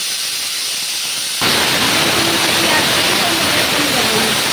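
Pressure cooker cooking rice tahari suddenly starts venting, a loud sustained hissing steam whistle that bursts in after a quiet start and continues strongly to the end, alone without talk.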